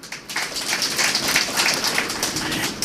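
Sustained audience applause fills a lecture hall during a talk on the Bhagavad Gita, dense steady clapping from many hands, loud and close, with no voice over it.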